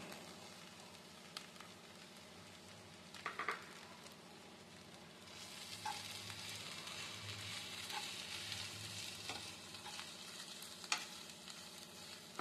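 Cooked amaranth leaves fry with onion chilli powder in a pan, giving a soft, steady sizzle. The sizzle grows a little fuller partway through, and scattered ticks and scrapes come from stirring. No voices are present.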